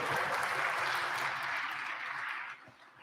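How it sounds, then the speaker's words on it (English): A round of applause fills a state House legislative chamber during a floor session, a dense, steady crowd clapping at fairly close range that holds for about two and a half seconds before tapering off into room tone. "Give them a big round of applause."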